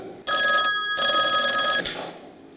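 An old-style telephone bell rings loudly in two bursts with a brief gap between them, then cuts off abruptly with a clunk as the receiver is lifted, alone with no voices.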